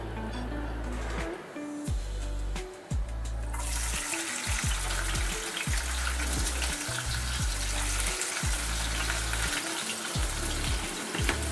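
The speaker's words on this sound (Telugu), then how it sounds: "ఆయిల్ వేడెక్కిన తర్వాత ఆనియన్స్ వేసేద్దాం" Onions fry in hot oil with a steady, dense sizzle that swells louder partway through, accompanied by intermittent low knocks and scrapes of a utensil against the pan, close and without talking.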